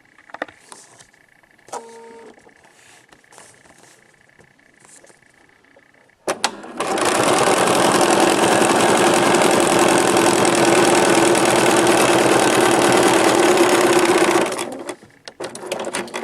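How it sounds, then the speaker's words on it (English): A sewing machine stitches a quilt block seam in one steady, loud run of about eight seconds. It is preceded by quieter handling sounds and a faint tone, and then stops abruptly. "go back to the machine, and stitch the line between 4 and 5"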